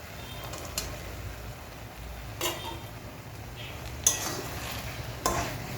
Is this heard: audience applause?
no